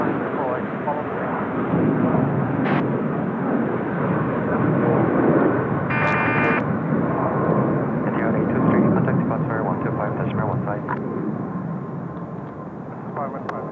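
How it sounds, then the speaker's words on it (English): A heavy airliner roars through a long takeoff roll at Seoul Incheon Airport, with a loud, sustained broadband rumble that swells and holds, while voices talk over it and a radio crackles briefly. "look at this long takeoff roll"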